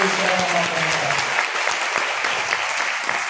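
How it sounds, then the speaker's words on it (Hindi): Audience at a business motivational talk claps loudly, a dense burst of applause at close range that stays strong throughout the short stretch. "ताली जोरदार बजा लीजिए"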